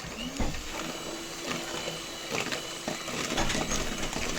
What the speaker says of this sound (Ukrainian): Поки збиваю жовтки з цукром.